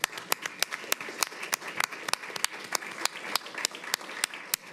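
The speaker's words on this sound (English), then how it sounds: "Give her an applause." A modest audience at a school board meeting claps, with sharp individual hand claps standing out over a thinner, continuous patter that keeps an uneven rhythm; no one speaks.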